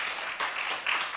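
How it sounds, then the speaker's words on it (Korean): A church congregation applauding, a short burst of scattered clapping at moderate distance, rising in small waves over about a second. "한국교회를 위해서 박수 한번 칩시다"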